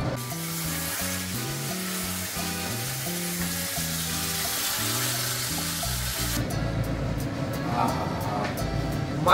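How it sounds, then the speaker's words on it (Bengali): Mutton dak bungalow curry with added water bubbling in a pot over a high flame gives a constant sizzling hiss, at first partly under background music, then standing out clearly and a little louder toward the end. "একটু ফ্লেমটা হাই করে দিলাম, এবার একটু ফুটুক"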